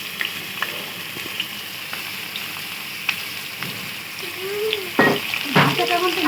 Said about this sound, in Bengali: তেলটি গরম হয়ে গেলে আলুটি দিয়ে দেবেন এতে। একটু আলুটি ভালো করে ভেজে নেবেন।